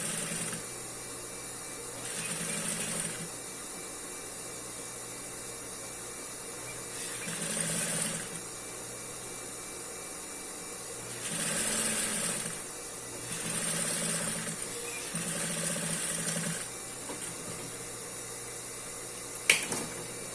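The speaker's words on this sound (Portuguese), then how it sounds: "vou dobrando e vou costurando" A sewing machine stitches a folded hem in tricoline fabric in short bursts, each run a few seconds long, separated by quiet pauses as the fabric is folded, close and clear with no talking.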